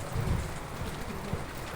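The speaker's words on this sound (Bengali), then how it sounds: "ঢাকায় অনেক বৃষ্টি হচ্ছে প্রচুর প্রচুর পরিমাণে বৃষ্টি হচ্ছে এবং ঝড়ো বাতাস বয়ে যাচ্ছে" Heavy rain during Cyclone Remal in Dhaka, a dense, steady hiss of rainfall with low rumbling and gusting wind underneath, continuous and fairly close, with no voices.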